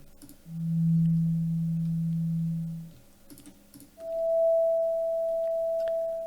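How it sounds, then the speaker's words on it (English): Pure electronic sine tones from a basic sine wave synthesizer: a low steady sub-frequency hum for a couple of seconds, a short gap, then a higher sustained beep, clean and unwavering. "We have a very basic sine wave synthesizer."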